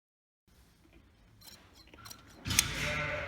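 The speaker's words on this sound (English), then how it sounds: "So we'll just give a little trim up around the tail." Shears clip the wool around a ewe's tail, a few soft snips in quiet surroundings followed by a louder burst of rustling and handling close by.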